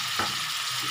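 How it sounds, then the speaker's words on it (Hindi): Chopped tomatoes hit frying garlic in a pan for baingan sabzi, and a loud dense hiss of sizzling fills the whole brief moment. "लहसुन पकने के बाद हम इसके अंदर हमने जो टमाटर काट के रखे थे वो डाल देते हैं"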